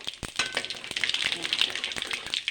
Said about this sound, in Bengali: তেজপাতা ও শুকনো লঙ্কাগুলি লাল লাল করে ভেজে নিয়েছি পাঁচ ফোড়ন দিয়ে দেবো